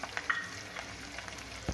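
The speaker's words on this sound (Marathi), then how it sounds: "आणि हे मनुके पण थोडेसे तेलामध्ये शेवटी तळून घेते।" Raisins and chivda ingredients frying in oil, a soft, steady sizzle with faint crackles and a light clink near the end, quiet and close.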